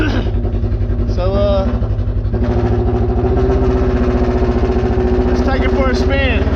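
A Polaris Ranger UTV's loud Flowmaster Outlaw aftermarket exhaust burbles and rumbles close by while a person talks over it; the engine pulses steadily with brief rises in pitch.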